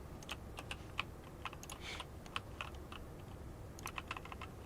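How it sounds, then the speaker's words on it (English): Quiet clicking of a computer keyboard during PC gameplay, scattered keystrokes in small irregular clusters, close but soft over a low hum, with no talk. "I'm playing on a keyboard."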